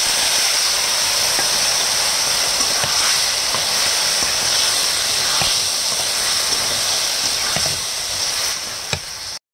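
Onions fry in a pan until reddish brown, making a steady, close hiss with scattered faint pops and crackles throughout. No one talks.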